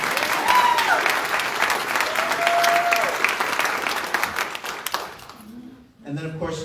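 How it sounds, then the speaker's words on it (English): Audience applause at a LULAC town hall in Houston rolls steadily for several seconds with voices mixed in, then breaks off as a single speaker's voice comes in close and clear. "A round of applause for the history she has made"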